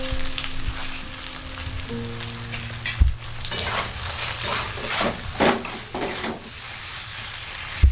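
Elephant apple pickle in a pan as sugar and jaggery are stirred in, bubbling and sizzling with repeated spoon scrapes and knocks growing busier in the second half, plus a low hum early on.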